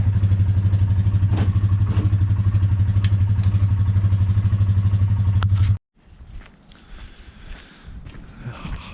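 A quad ATV engine runs loud and steady with a throbbing low rumble and a few clanks, then cuts off sharply, leaving quieter scattered handling noises.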